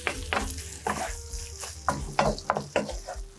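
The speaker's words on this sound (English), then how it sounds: "once it's incorporated, we'll go back to our wooden spoon to help mix this all" A wooden spoon works through a cream cheese and corn mixture in a pan, giving a run of soft scraping strokes and wet squelches at an uneven rhythm, close and moderately quiet, with a light sizzle underneath.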